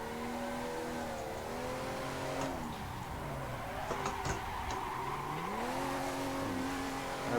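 A racing car in the Assetto Corsa sim drifts at Tomodachi Kartland, its engine revving up, dropping through a gear upshift, then climbing again, with a brief tire squeal and ticking in the middle.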